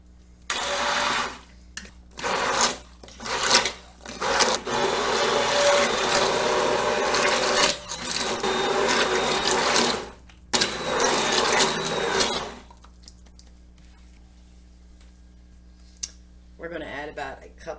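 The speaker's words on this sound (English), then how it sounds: "We're going to take a stick blender" A stick blender purees tomatoes for marinara sauce, whirring in repeated bursts, short pulses followed by a longer continuous run, with a voice speaking briefly near the end.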